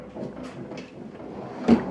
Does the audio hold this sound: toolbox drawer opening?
yes